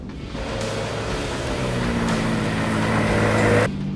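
A Ford Ranger Raptor drives in four-wheel drive high over a rough, undulating road, a steady loud engine drone with rising tone and broadband tire and body noise that cuts off abruptly at the end.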